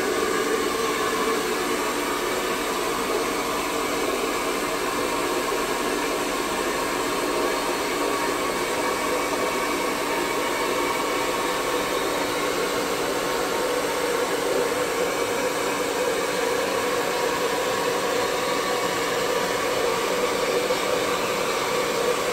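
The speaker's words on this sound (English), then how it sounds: "This is a pretty good size, pretty strong, powerful hairdryer. It is loud" A powerful hair dryer roars loudly and steadily without pause, a dense broadband whoosh close to the listener.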